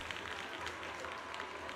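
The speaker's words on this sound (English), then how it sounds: "Thunderous applause fills the hall, echoing endlessly." Dense applause from a crowd filling a hall in Zenless Zone Zero, a steady, even wash of clapping at moderate volume with no breaks.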